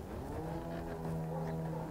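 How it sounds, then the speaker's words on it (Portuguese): A motorcycle engine idles or runs nearby outside a home during a food delivery, a steady low droning tone with rough rumble underneath throughout the short moment. "Eu escutei um barulho de moto."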